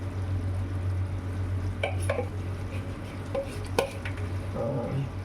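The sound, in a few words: coconut milk poured and stirred into fish curry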